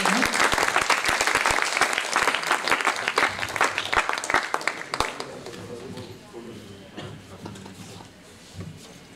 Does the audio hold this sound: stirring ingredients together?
no